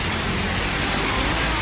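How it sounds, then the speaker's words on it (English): Steady rain falls in Sevilla, Spain, a dense, even hiss of drops that fills the short stretch without a break and stays close and fairly loud throughout. "Rain, rain, rain. All I know is rain in this country."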